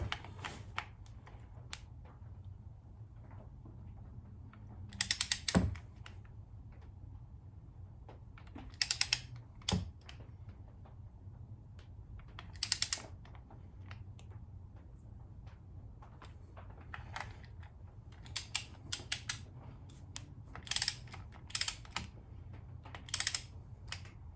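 Torque wrench tightening motorcycle clutch cover bolts in a garage: repeated quick bursts of close, sharp ratcheting clicks, separated by quiet pauses over a low background hum.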